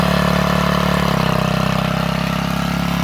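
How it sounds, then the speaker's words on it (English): A small gas-powered generator engine running a 12-volt alternator battery charger drones steadily and loudly, its pitch dropping slightly as the load comes on. "if I go flip that switch, you'll hear the motor bog down a little bit, because that's going to then energize the alternator"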